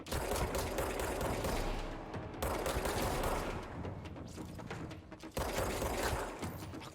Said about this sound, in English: Machine guns indeed.